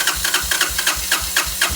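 A Honda TRX200SX quad engine sputters and chugs on carburetor cleaner, giving a quick uneven run of rhythmic pops and hissing pulses, close and fairly loud with no talking.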